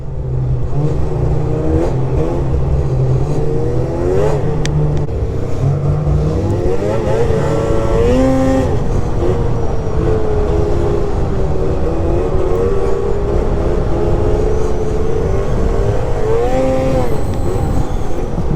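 An Arctic Cat 600 Catalyst snowmobile engine revs loud and close, its pitch climbing and sagging steadily as the machine is loaded up and pushed.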